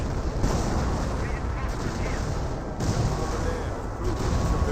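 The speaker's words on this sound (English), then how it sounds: "Now here comes the M2 barrage." An M2 artillery barrage pounds on in Company of Heroes, a dense continuous roar of rumbling blasts and gunfire filling the scene with a few sharper impacts, loud and sustained throughout.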